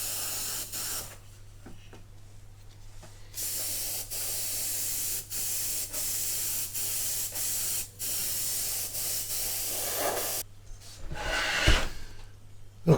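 Tamiya XF85 rubber black paint sprayed onto a 1/200 Trumpeter Bismarck model ship, a series of steady airbrush hisses in bursts of a second or so, separated by short pauses, under a constant low hum.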